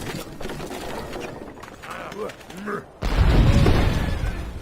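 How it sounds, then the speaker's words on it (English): Cannon fire on cavalry in the Civilization V Civil War scenario, a sudden loud burst of booming game battle noise that swells and holds after a stretch of quieter background sound. "now let's go ahead and have our cannon open fire upon the cavalry"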